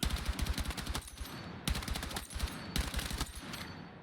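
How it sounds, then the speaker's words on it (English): Rifle fire in the shooter game Battlefield 6, delivered as three rapid bursts of close, punchy shots separated by short pauses, with no talking. "Micro bursting and tap firing as much as you can is making the weapons a laser beam"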